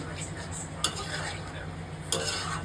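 Pre-fried potatoes stirred and frying in a pan, a soft continuous sizzle broken by two sharp clinks of a spoon against the pan.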